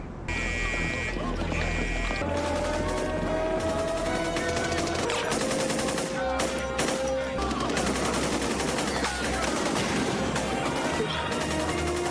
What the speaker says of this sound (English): you have this big, absolutely action-packed gunfight scene in the first episode